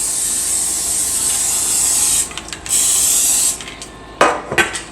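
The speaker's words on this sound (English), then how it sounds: "And don't be afraid to spray." Close, hissing bursts of an aerosol cooking spray into a baking pan, two long sprays with a brief gap, then a few short clattering knocks and puffs.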